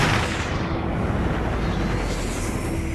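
A bomb blows up in the mobile shooting game Sniper 3D, giving a loud, rumbling blast that roars on steadily for about three seconds with no voices over it.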